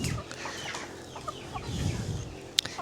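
Philippine native ulikba chickens, a black-skinned dark-meat breed, cluck softly and intermittently at close range, with a sharp squawk near the end over faint background rustle.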